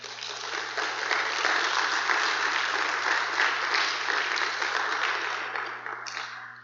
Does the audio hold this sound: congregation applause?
yes